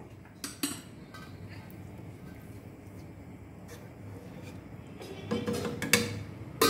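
A metal lid is set onto a cooking pot of semiya pulao, giving a few sharp clinks and clatters, sparse and close, over a low room hiss.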